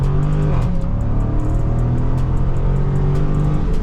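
A 2023 Dodge Charger Scat Pack Widebody Last Call on new 315 tires pulls hard at full throttle, a loud, steady, deep engine roar with a slight pitch shift early on, continuous and close throughout with no talking.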